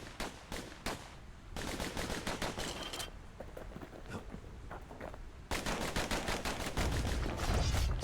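Rapid pistol fire from dual slinger pistols in the video game Bastion, bursts of sharp shots in quick rhythmic volleys, close and loud, with short pauses between strings of fire.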